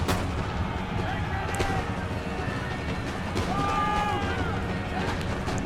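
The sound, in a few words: militia musket fire at a fort in video game Empire Total War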